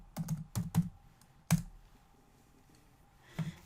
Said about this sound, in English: I'm going to type summer in here.